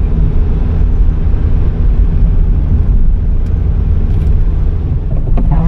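Steady low engine drone and road rumble from inside a car travelling on a back road near Aurich in Ostfriesland in bad weather, continuous and loud with no talking.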